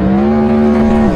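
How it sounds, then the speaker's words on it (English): A loud sports car engine holds a steady, droning tone that sinks slightly in pitch, running continuously at close range with no voices. "You've probably experienced a loud sports car approaching you at high speed"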